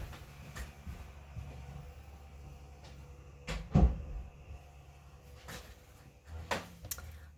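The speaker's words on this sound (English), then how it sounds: "I'm going to close my door to my office to see if it makes it any quieter." An office door swings shut with a single dull thud, heard fairly close against a steady low rumble of a mower or weed whacker running outside.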